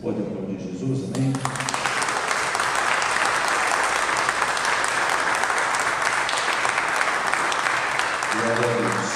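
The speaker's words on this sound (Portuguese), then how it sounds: "Vocês podem aplaudir Jesus" Church congregation applauding during a service, loud sustained clapping that surges in after a second and holds strong, with voices mixed in underneath.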